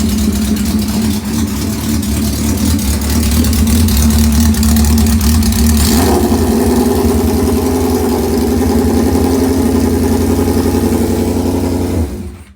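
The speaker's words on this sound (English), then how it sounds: "I don't think I've ever shown you guys the bike running" Honda CB550 motorcycle engine running with a hanging idle, a loud, steady mechanical drone with dense rapid firing pulses close by, rising slightly partway through, then cutting off at the end; no voices.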